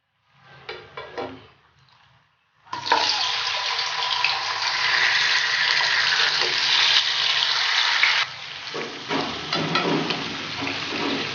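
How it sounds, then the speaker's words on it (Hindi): Chicken pieces dropped into hot ghee in a karahi burst into a loud, dense sizzle that holds steady for several seconds, then settles into a lighter crackle with stirring scrapes, preceded by brief handling sounds. "चिकन को फ्राई करेंगे तब तक जब तक इसका कलर चेंज ना हो जाए"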